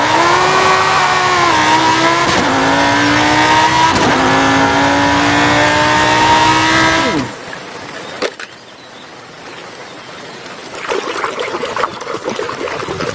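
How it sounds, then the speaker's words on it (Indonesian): A toy Lamborghini car plays a loud, sustained engine-revving sound effect whose pitch swells and dips for about seven seconds. It cuts off, leaving quieter trickling and splashing water while the toy is washed. "mobil Lamborghini"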